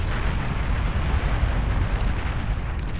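Bombs detonating in the real-time strategy game Beyond All Reason, a dense rolling roar of explosions that rumbles steadily and loudly throughout with no pauses.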